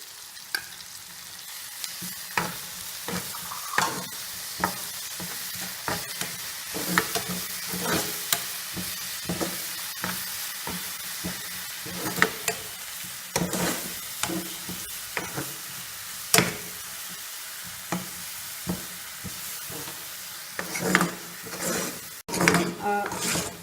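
Ginger garlic paste fries in a pan for a chicken and capsicum dish, with steady sizzling broken by frequent scraping stirs of a spoon against the metal throughout, and no voices.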